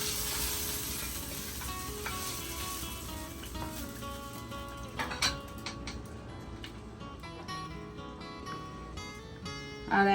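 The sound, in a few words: garlic frying in a pan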